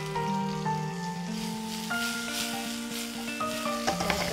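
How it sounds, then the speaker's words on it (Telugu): Onions hitting a very hot pan of oil and sizzling loudly up close, a dense crackling hiss over steady tonal background music, with no speech. "ఎస్, ప్యాన్ సూపర్ హాట్ అయిపోయింది ఆయిల్తో సహా. First onions"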